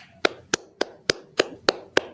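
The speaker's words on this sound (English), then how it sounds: "Let's welcome Officer Wescovich with a round of applause." Seven sharp hand claps in a steady, evenly spaced rhythm, close and distinct, with short quiet gaps between them.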